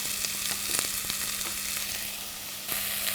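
Chopped onions sizzle and crackle steadily in hot oil in a pan, with the heat being turned down, a soft, even frying hiss with occasional pops and no talking.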